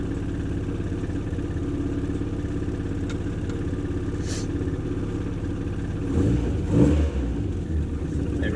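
Triumph Spitfire engine with a new distributor, idling steadily nearby, then revving up briefly with a clattery rise before settling back to idle.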